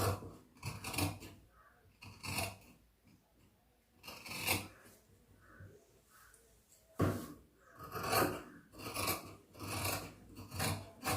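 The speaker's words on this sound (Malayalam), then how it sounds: "അത് കൂടെ ഇങ്ങനെ കട്ട് ചെയ്യുന്നു" Scissors cut through churidar fabric in repeated crisp snipping bursts, close and clear. The cutting comes in rhythmic runs separated by brief quiet gaps.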